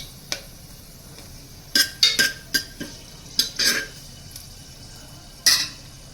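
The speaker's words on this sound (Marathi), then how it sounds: "हे गरम मसाले मी ॲड करते ह्याच्यामध्ये. आणि याला आपण थोडंसं परतवून घेणार आहोत" Spoon clinks and scrapes against a pan as whole garam masala spices are stirred and sautéed, a series of sharp metallic knocks in irregular bursts over a faint sizzle.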